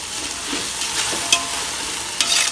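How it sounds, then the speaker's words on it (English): Chicken fried rice being stirred in a hot pan, a steady hiss of frying with a couple of sharp scraping strokes of the utensil, close and fairly loud, no voices. "And give this a good stir."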